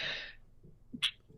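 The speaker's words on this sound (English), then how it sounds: "And I'm going to sneeze," A single close, sharp sneeze comes after a short breathy intake, then ends in a brief vocal sound.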